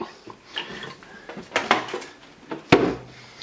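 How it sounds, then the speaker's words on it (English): A spoon scrapes and knocks around a pot of chicken pot pie soup with milk, irregular clinks and scuffs with a few sharper metallic taps, close by and without talk. "Stirring this all up."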